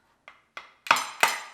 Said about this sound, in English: You take an egg and you crack an egg to go inside.